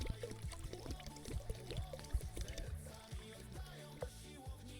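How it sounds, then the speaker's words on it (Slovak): Petrol trickles and glugs steadily into a container as it is mixed, a continuous bubbling pour at close range with no voices over it. "Ideme namixovať benzín"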